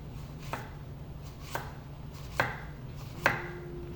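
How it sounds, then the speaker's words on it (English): A kitchen knife slicing zucchini into thin 2mm rounds on a cutting board for ratatouille, four separate crisp cuts spaced about a second apart, close and clear over a low steady hum. "you're going to slice them into roughly about, I want to say like 2mm pieces"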